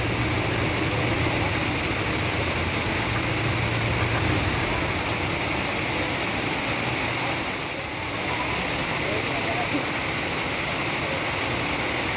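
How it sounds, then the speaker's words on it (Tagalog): A waterfall flows in a steady, unbroken roar of rushing water that stays loud and even throughout, with no voices heard. "Ang ganda ng falls."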